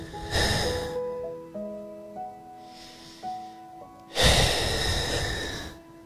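A voice imitates heavy breathing as someone drifts off to sleep, with two loud breathy exhalations at the start and end and quieter snorting sounds between them, over soft background music.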